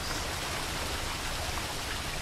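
Constant rushing white-noise roar of a waterfall in The Witcher 3: Blood and Wine, even and unbroken, filling the short stretch without talk.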